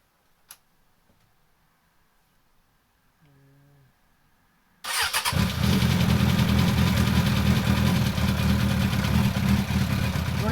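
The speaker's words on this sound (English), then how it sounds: "Run the bike a couple of minutes." A 1998 Suzuki Bandit 600 motorcycle engine cranks briefly, then fires up and settles into a loud, steady, close idle that runs on without pause.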